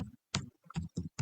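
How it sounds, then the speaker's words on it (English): Typing on a computer keyboard, a handful of distinct close key presses in an uneven rhythm, quiet and alone without talk. "just type here"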